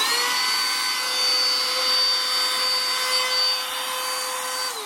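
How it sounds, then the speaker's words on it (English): A small vacuum cleaner runs with a steady, loud whine from start to finish, close and continuous, used during work on a Japanese 1981 Ibanez Artist guitar shaped like a Gibson Les Paul. "Noise time for my little vacuum."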